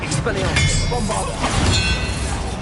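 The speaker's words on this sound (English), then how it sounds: "Bombard." Bombarda blast spell in a Harry Potter video game: a short, loud, shattering burst with clinking debris over busy game sound.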